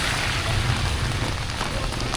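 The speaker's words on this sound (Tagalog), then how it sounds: "It's a heavy rainy day." Heavy rain on a rainy day in Bukidnon, the Philippines, pours down in a dense, steady roar that fills the whole stretch with no break and no voices.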